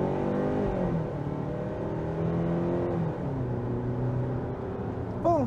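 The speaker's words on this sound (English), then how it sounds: "Sports mode, let's see if that 187 horsepower engine is strong enough to pull the weight of this vehicle." A 2023 Kia Sportage X Line with a 187-horsepower engine accelerates in sports mode, its engine note rising steadily through several gear shifts from inside the cabin, with no talking.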